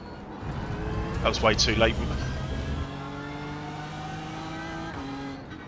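GT3 race cars in the iRacing video game at Hockenheim, engines droning steadily with a Ferrari alongside, a sustained mid-pitched hum with shifting tones, while someone talks briefly over it.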